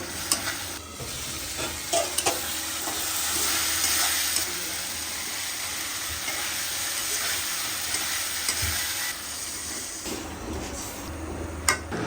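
Tomato frying with cumin, ginger and coriander for a tuna fish curry, a loud steady sizzle close up with stirring scrapes and clinks throughout, no speech over it.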